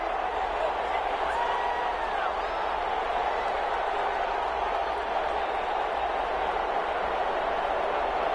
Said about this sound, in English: And the home crowd applauding.